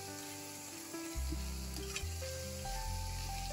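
Vegetables frying for a homemade vegetable biryani with homemade masala, a steady close sizzle that grows louder partway through, with no talking.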